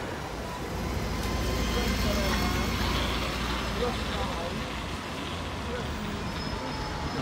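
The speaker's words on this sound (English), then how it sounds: "We got another double decker coming out of the new bus station." A double-decker bus pulls out of the new Exeter bus station on a late-December day, its engine a steady, fairly close rumble over broad station and traffic noise.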